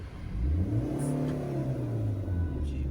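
A car engine hums and rises in pitch as the clutch is slowly let out into gear, a close, steady mid-range drone with a gentle swell and no talking.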